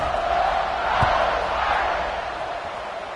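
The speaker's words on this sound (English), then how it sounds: "this crowd is buzzing after that last score" A dense football stadium crowd buzzes steadily at a Clemson versus Notre Dame game, a broad continuous roar of many voices holding loud and even, with a brief swell near the middle.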